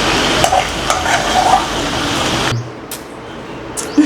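Prawns dropped into a hot pan for a prawn pickle and frying with a steady sizzle and stirring clatter, which cuts to a quieter hiss with a few sharp clinks of utensils.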